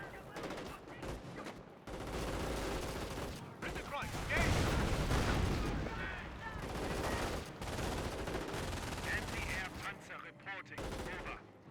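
Dense, sustained gunfire from Company of Heroes 1 with machine-gun bursts and rifle fire, the US side firing on Wehrmacht infantry, loud and continuous with brief lulls, over game effects and faint speech.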